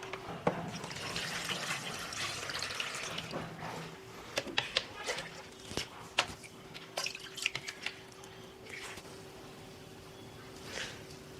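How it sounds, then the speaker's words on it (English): Tank water poured into a Dophin C 1000 aquarium canister filter, with splashing and trickling up front, then scattered drips and small splashes that fade to a quiet steady hum. "Initially I added 2-3 cups of tank water only."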